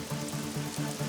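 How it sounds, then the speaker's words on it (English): Steady rain falling on a surface in a cartoon weather scene, a dense even hiss with a soft repeating low tone pulsing underneath, no voices. "Right, it's rainy."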